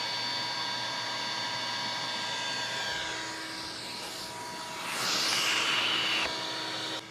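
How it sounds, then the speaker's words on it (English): Vacuum cleaner running continuously on a boat under rebuild, a steady whining drone with tonal hum that swells slightly louder partway through, no talking. "And now I can never turn off that vacuum because then the wasps are gonna come out pissed."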